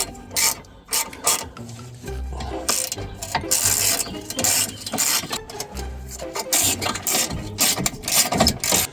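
Ratchet wrench undoing front suspension bolts on a Mk3 Golf GTI, rapid clicking bursts in irregular runs with short pauses between, close and fairly loud.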